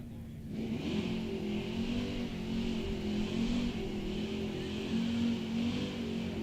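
A 1967 GTO drag racing toward the finish line, its engine a loud, steady roar that holds a sustained pitch throughout, close and continuous.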